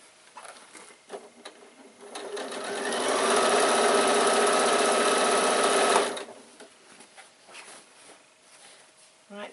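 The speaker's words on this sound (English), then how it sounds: "Needle down, lift your presser foot and sew across the bottom." Sewing machine sewing across the bottom of a baby bag, building to a fast steady whir for about four seconds before stopping, with light fabric handling around it.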